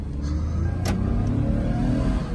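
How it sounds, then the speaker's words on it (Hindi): A 2006 Toyota Mark X with a 2.5-litre engine runs with a steady low rumble and a slight rise in revs, with a brief whine partway through and no speech. "गाड़ी को रेस दे देता हूँ"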